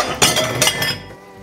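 A ceramic plate cracks in a home kitchen while tofu and bok choy cook, giving a couple of sharp, bright clinks and a brittle crunch up close, then tailing off into quiet room noise.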